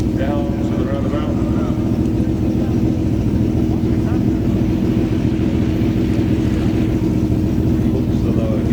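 A car pulls away along the Chateau Impney hill climb course at a supercars and classics day, its engine a loud, steady drone that holds throughout, with a commentator talking over it.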